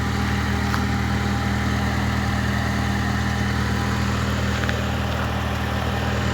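A car engine idles steadily while the vehicle is eased into a parking spot, a constant low rumble holding close and even throughout with no voices over it.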